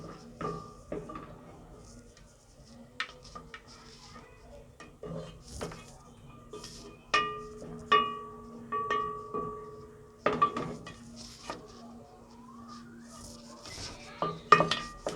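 A spoon clinks and scrapes against a metal pan while fried onions are scooped out, a series of sharp metallic knocks and chinks over a faint sizzle, with occasional speech.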